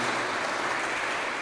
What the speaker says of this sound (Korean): 열심히 하시라고 우리 박수 한번 쳐드리는 게